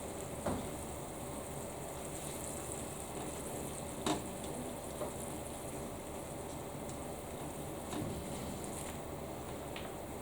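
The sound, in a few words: stirring jambalaya rice in a pan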